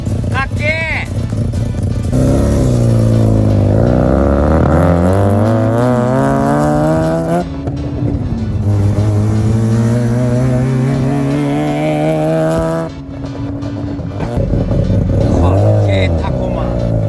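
A Mazda RX-7 rotary engine revs loudly and close, climbing and falling in pitch across several long pulls with brief pauses between them, while people talk over it.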